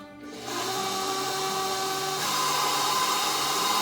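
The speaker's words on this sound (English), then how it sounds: "Just going to give the eggs a little mix." A stand mixer with a paddle attachment spins up and mixes eggs, a close, steady motor whine with a rising hum after a brief quiet start and no talk.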